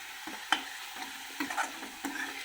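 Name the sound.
frying paneer masala on low flame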